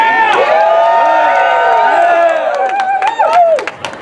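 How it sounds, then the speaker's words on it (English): A crowd at a pro wrestling match roars and cheers loudly and steadily, with shouts and whoops rising over a dense wall of voices near the end. "I figured you'd cheer for something like that"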